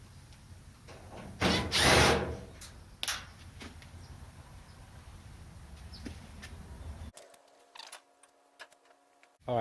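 A power drill backs out screws on a dryer that won't spin, giving short whirring bursts with faint ticking handling noises in between, followed by a quiet stretch near the end.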